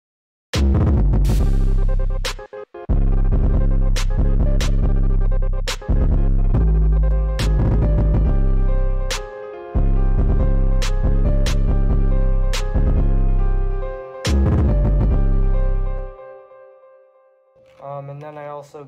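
Piano in a remix beat played at doubled speed, with rapid repeated chords hitting in quick succession over deep bass throbs, loud and alone, fading out near the end before a different sound enters.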